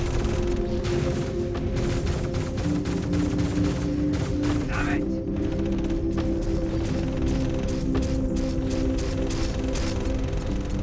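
Ballistic guns on the Ares fighter ship in Star Citizen firing in long, rapid mechanical bursts, a dense rattling stream over a low engine hum that runs almost continuously.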